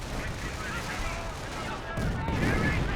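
Mortar and artillery fire in the strategy game Company of Heroes, a steady rumbling barrage of distant blasts and gunfire that grows heavier and louder partway through, with battle noise throughout.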